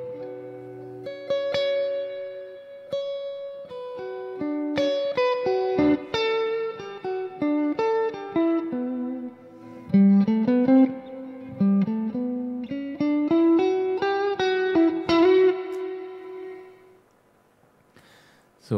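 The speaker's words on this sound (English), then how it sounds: "This is how an Amp 1 sounds, and this is how every Amp 1 reverb sounds." Guitar played through an Amp 1 amplifier with its reverb on, clean picked notes and chords whose tails linger and fade, close and clear, ending in a decaying wash, no talking.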